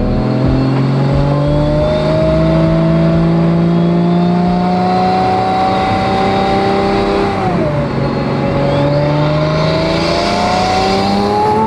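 A Pagani supercar with an AMG twin-turbo V12 pulls hard in third gear, its loud, steady engine note climbing in pitch, briefly dipping at a shift, then rising again, heard close and continuous without talk.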